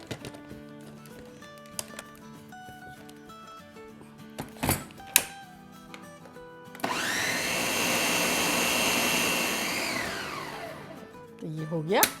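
An electric blender purees cooked soup ingredients with a loud steady whir lasting several seconds, preceded by knocks and clunks of the jar and lid, and ending with a short restart.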